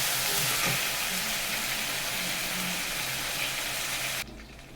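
Salt, turmeric and spices fry in a pan for a rita fish curry with potatoes, giving a loud, even sizzle that holds steady. It drops away abruptly near the end, leaving a faint low hum.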